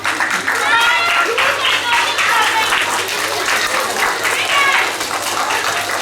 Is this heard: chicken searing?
no